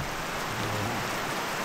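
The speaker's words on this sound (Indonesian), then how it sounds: "Hujan." Steady rain falls in a village in Cibening, a dense, even hiss of drops with a faint low hum underneath and no voices.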